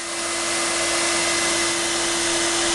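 A shop vac taped to a ladder on a porch, set up to suck up wasps, runs with a constant loud whine and a steady tonal hum and no break.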